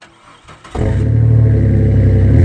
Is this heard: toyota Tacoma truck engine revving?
yes